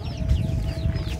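A few soft clucks from hens nearby, brief and close, over a low background hum.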